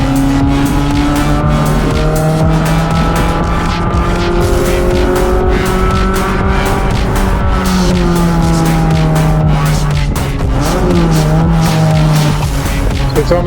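Race cars roaring around a track, loud continuous engine notes rising and falling as they shift, with tire squeal and skidding mixed through the whole stretch.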